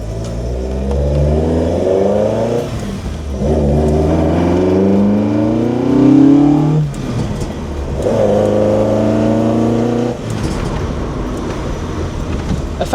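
A restomod Alfa Romeo Junior GT engine revs up and down in repeated rising surges, its throaty carburettor-like intake note loud and close, with no talk over it.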